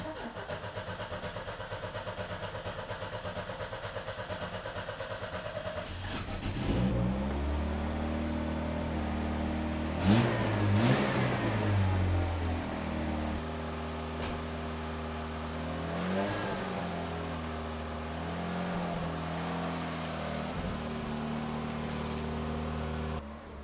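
A car engine cranks and catches after a throttle cable repair, then idles and revs up and down several times, loud and close, with no voices over it.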